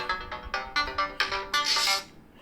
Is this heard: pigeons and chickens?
no